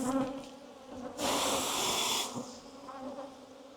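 Honeybees swarm around a beehive frame while the super is being checked. A steady insect buzz runs throughout and swells into a louder, denser hum near the middle before settling back to a softer drone.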